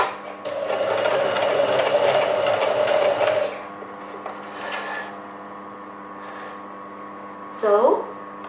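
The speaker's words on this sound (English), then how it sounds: "I'm at the end and I'm going to do a reverse sew" A basic sewing machine hums and rattles steadily as it stitches in reverse at the end of a pants seam, running for about three seconds before stopping, then quieter handling noises and a brief squeak.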